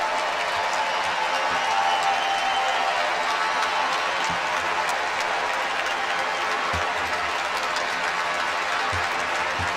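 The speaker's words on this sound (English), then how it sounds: "Tar Heels fans giving him a round of applause" Basketball fans in an arena at a UNC versus Notre Dame game applaud Demetrius Jackson as he leaves the court, a sustained, distant-sounding roar of clapping and crowd noise with a few sharp thuds.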